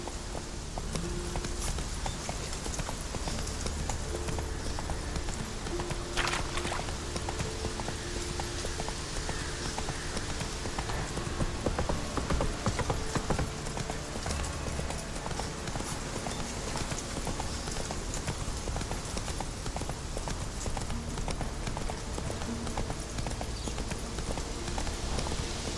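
Horse hooves clip-clop steadily at a gallop through the whole stretch in The Witcher 3, a continuous rhythmic pounding under a dense game soundscape with hints of rain.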